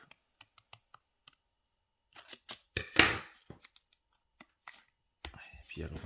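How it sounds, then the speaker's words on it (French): Scissors snipping origami paper in short, sparse clicks and cuts, with a louder crisp cutting burst in the middle and a rustle of paper near the end, close and quiet. "Je crois que mes ciseaux sont pas de ouf."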